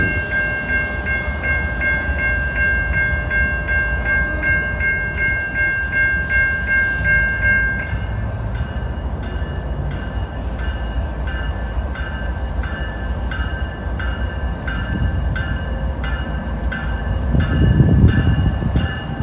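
A 3,630-foot freight train with 172 axles rumbles and clatters steadily past up close down the middle of a main street at night, a sustained horn blaring over the first half, then rhythmic wheel clicks continue.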